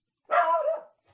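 A single dog gives one short, close bark with a slightly whiny tail. Quiet surrounds it on both sides.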